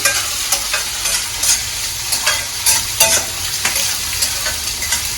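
Thinly sliced onions fry in a pan toward light brown, giving a strong steady sizzle broken by repeated scraping stirs in an irregular rhythm, close and loud, with no speech.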